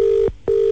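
A phone ringback tone heard while a call is placed: two steady, loud electronic tone bursts separated by a short gap, alone and close.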